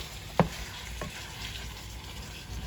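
Ground beef frying in a pan, a steady close sizzle with a sharp scrape of a utensil breaking up the meat early on and a lighter tap a little later.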